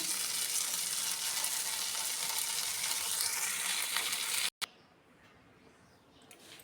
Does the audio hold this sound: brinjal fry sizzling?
yes